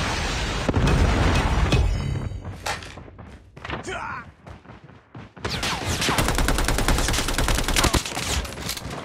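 Predator missile strike in the Call of Duty Mobile video game: loud, dense bursts of gunfire and booming explosions that drop away briefly, then return as a sustained rapid barrage, with game voice announcements over the top.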